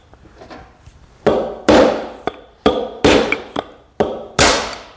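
A hammer drives a punch to knock a wheel bushing out of a riding mower, about eight sharp metallic strikes at an irregular pace, the later blows louder and ringing, close up with no talking.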